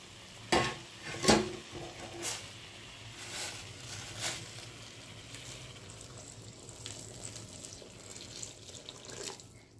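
Hot water is poured into sizzling spiced masala in a pan for jhinge pabda curry. A few sharp splashes and scrapes come first, then a steady soft bubbling sizzle carries on quietly.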